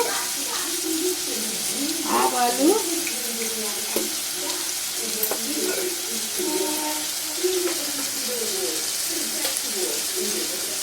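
Ridge gourd pieces with cumin and mustard seeds fry in oil in a pan, a steady close hiss continuing throughout while a voice talks over it.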